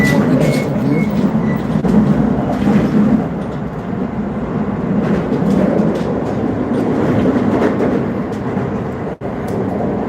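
Riding a train in Japan on a gloomy day, with a loud steady rumble and rattling of the carriage, faint rhythmic clatter over the rails and a brief dip near the end.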